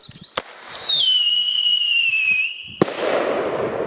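Scream and Funke firework rockets launched from a pistol: a sharp bang, then a loud descending whistle lasting about two seconds, ending in a sudden crack and a hissing crackle, with no voices.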